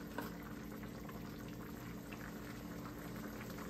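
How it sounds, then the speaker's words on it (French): Rice cooking in a pot in a home kitchen, a faint continuous bubbling simmer heard steadily throughout with no voices. "mon riz est en train de frire, de cuire"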